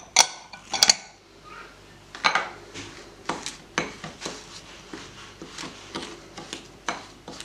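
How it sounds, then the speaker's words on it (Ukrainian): Choux pastry dough being stirred in a pot after flour is added, a series of close scraping and knocking strokes of a utensil against the pot, irregular and fairly loud, with no voices. "Після цього додаємо нашу муку. І гарно перемішуємо."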